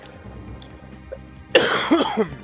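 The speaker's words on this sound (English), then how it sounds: "Don't cough, kids." After a quiet stretch, one loud, close cough bursts out, breaking into a few rough follow-up hacks.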